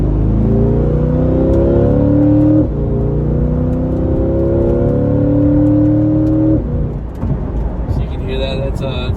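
A Chevrolet Corvette C8 accelerates hard on a highway, engine pitch climbing through two upshifts with a brief drop between them, loud and close inside the cabin, ending in road noise and faint clicks.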